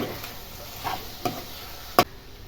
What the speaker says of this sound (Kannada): ಇವಾಗ ಟೊಮೊಟೊ ಸಾಸ್ ಮತ್ತು ಸ್ವಲ್ಪ ಶುಂಠಿ ಬೆಳ್ಳುಳ್ಳಿ ಪೇಸ್ಟ್ ಚೆನ್ನಾಗಿ ಫ್ರೈ ಮಾಡ್ಕೊಳ್ಳಿ.